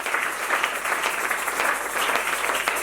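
A church congregation applauding together, dense continuous clapping for a few seconds that fills the room with a steady, even texture.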